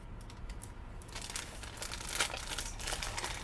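Close, faint crinkling and tearing as a taped post office box package is cut open, soft scratchy rustles that build into louder crackling bursts.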